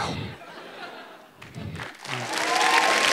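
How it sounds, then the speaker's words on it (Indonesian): Applause and cheering break out from a stand-up comedy crowd in Indonesia, starting faint after a pause and swelling into a loud, dense wash of clapping by the end. "tepuk tangan buat Coki"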